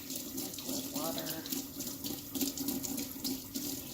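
Cold water runs from a tap into a small sink, a steady close gush filling the basin with a constant splashing rush.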